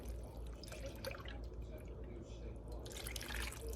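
Half and half pours into a crockpot in a steady liquid stream, a continuous moderate trickle and splash that lasts the whole few seconds, with faint kitchen background.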